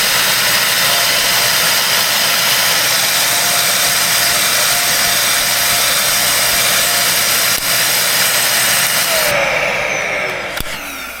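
A vacuum cleaner runs at full power in an attempt to blow dirt out through a clogged intake, giving a loud, steady high-pitched whine and rushing airflow that holds for about ten seconds, then shifts pitch briefly as it winds down near the end.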